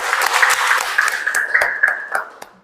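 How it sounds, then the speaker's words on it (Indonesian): A classroom of students claps together in unison, a bright, loud burst of hand claps spreading across the room and tapering off, with a ringing tone running beneath. "Tepuk tangan dulu untuk kita semua."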